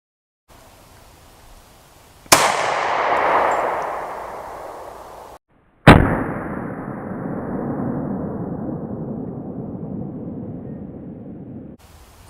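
Two sharp, loud pistol shots of .40 S&W or .45 ACP Hornady XTP hollow-point rounds are fired into ballistic gel, each a sudden crack followed by a long, reverberant, fading ring, with no voices.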